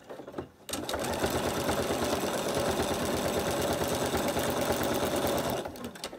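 A sewing machine running steadily for free-machine embroidery, stitching a campervan appliqué outline, with a fast even whir close up after a brief quiet start and stopping near the end.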